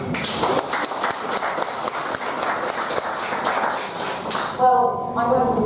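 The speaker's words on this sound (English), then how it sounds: "Applause, please." Audience applause at a formal event fills the room with dense, steady clapping, fading out near the end as a voice begins talking.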